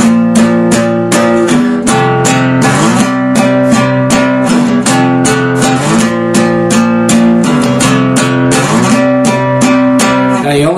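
Electric guitar power chords strummed in a steady, driving rhythm, playing the chord progression of a song as a lesson demonstration; loud, full and continuous, with no talking.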